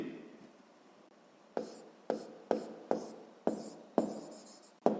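Pen strokes writing out a proportion for a sixth-grade math exercise: a series of about eight short, crisp scratches and taps in an uneven rhythm, close and fairly quiet, with no talking.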